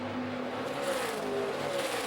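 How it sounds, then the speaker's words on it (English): Stock cars roar around the Kentucky oval during a 2012 NASCAR Nationwide Series race, a steady loud engine drone with rising and falling pitch as cars pass close by, no talk. "the concentration with this fast race car around this difficult track"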